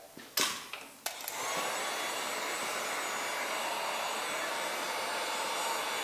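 A heater warms the badge on an Indian Scout motorcycle for removal: a few clicks and knocks, then a loud, steady blowing roar that runs on evenly up close.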